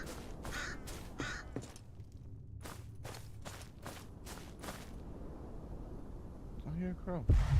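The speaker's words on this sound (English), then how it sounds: "I hear a crow." A crow in the GoT: Kingsroad video game caws repeatedly in a quick irregular series of sharp calls, fairly close, then falls quiet before a few footstep-like scuffs and a low thump at the end.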